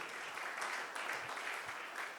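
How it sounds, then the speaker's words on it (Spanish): A church congregation claps during a Spanish-English worship service, producing a steady, moderately soft wash of hands clapping that continues without pause. "Dale palmas a Cristo"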